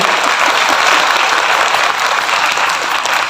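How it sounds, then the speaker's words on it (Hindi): Large audience at a motivational speech event clapping loudly and steadily, a thick continuous rattle of many hands close to the microphone with no voices over it. "अच्छा ताली नहीं बजाई आप लोगों ने"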